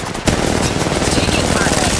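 Gunfire in Apex Legends Mobile, energy weapons in a firefight: a sharp onset gives way to dense, rapid automatic bursts that run loud and continuous for the rest of the moment, with game voice lines mixed in.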